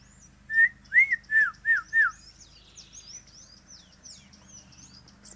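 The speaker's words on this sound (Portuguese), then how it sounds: "Os pássaros tudo felizes" Outdoors in a valley, a bird sings five loud, clear whistled notes in a quick even series close by, followed by fainter chirps and twitters from other birds.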